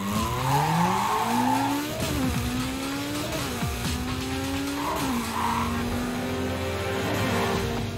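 A Suzuki Hayabusa motorcycle drifts in Need for Speed Carbon, its engine note sliding up and down in repeated sweeps against steady tire screech, loud and continuous.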